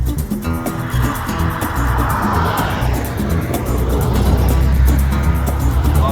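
A Jeep drives on the road near Moab during the Easter Jeep Safari, with a loud, steady engine and road rumble from inside the vehicle and a rapid ticking rattle on top.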